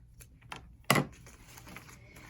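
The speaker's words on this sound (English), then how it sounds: "Now you're ready to cut these little tails." Floral ribbon tails of a magnolia swag bow being snipped with scissors: a faint cut, then one sharper, louder snip near the middle, alone in a quiet room.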